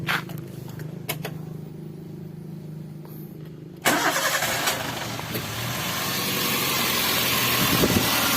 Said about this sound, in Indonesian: Oke, kita nyalain mesinnya dulu.